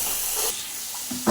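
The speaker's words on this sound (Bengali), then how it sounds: "এবার এটা ভালো করে একটু ভেজে নিই।" Fish head and mung lentils fry in a hot pan, giving a loud close steamy hiss that eases briefly and then flares up again at the end.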